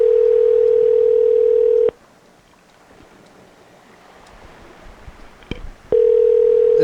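A telephone's ringing tone sounds as a loud steady electronic hum in two long bursts separated by a quiet gap of faint background noise.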